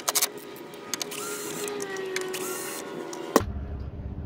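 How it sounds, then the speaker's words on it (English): A power screwdriver whines close by as screws are backed out of a car's rear bumper, a steady buzzing drive for about three seconds after a few clicks, ending with a sharp clunk and then quiet. "Next, you want to remove these 2 screws."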